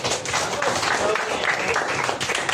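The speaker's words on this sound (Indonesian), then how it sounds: "Tepuk tangan untuk Fauzan" Primary school pupils in an Islamic religious education class clap for a classmate, a brief burst of scattered hand claps mixed with some talking.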